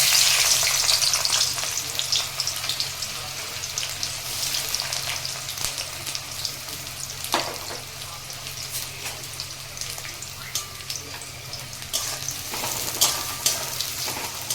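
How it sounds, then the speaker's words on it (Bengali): Loud, steady sizzle of onions frying in hot oil for a banana flower curry, with occasional stirring scrapes and crackles; no talking. "তেলটা গরম হয়ে গেছে, এবার পেঁয়াজটা ছেড়ে দেব।"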